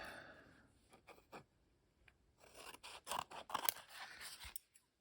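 Scissors snip through a paper craft piece trimmed before its glue has dried, making a series of close, quiet crisp cuts and rustles that quicken into rapid snipping toward the end, without speech.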